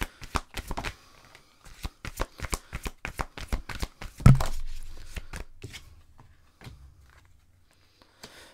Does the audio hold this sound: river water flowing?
no